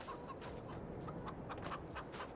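Chickens in the video game Farming Simulator 22 on an Iowa farm cluck softly in a quiet, steady chorus of short, repeated calls with no voices over them.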